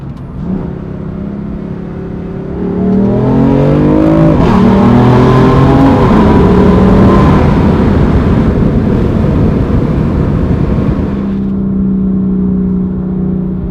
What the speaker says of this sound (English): showing you how the car sounds in Sports Plus